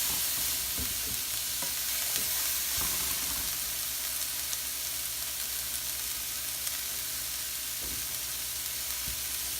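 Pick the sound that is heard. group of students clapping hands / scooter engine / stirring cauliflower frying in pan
stirring cauliflower frying in pan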